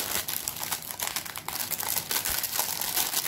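Plastic wrapping crinkles and crackles steadily as a new envelope binder is unwrapped, a close, continuous rustle with sharper crackles throughout.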